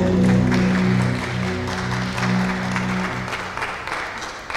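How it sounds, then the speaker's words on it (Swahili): A church congregation at a midweek prayer service applauds loudly and steadily, the clapping fading slightly over time while sustained organ or keyboard chords play underneath. "Pigie praise and worship makofi."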